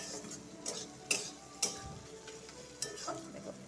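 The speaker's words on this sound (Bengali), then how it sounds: "মিষ্টি কুমড়াটা পেঁয়াজের সাথে সুন্দর করে ভাজা হয়ে গেছে" Sweet pumpkin frying with onion in a pan, a faint low sizzle broken by a few sharp scraping clicks of stirring, fairly quiet and close with no talking.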